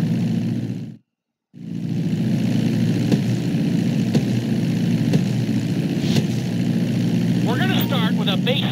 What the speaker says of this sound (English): Hold the throttle all the way down to pick up speed and pull back on the stick to take off.